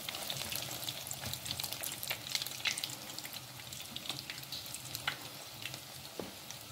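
Chicken and broccoli kebabs fry in a pan with a steady, soft sizzle, faint crackles and light pops running throughout, no voices.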